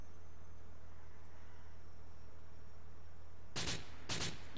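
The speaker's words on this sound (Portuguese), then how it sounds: "Eu tô vendo você atirando" Two sharp, loud bursts of gunfire from the video game GTA 4 come late in a quiet stretch, each a short cluster of shots about half a second apart, with no talking over them.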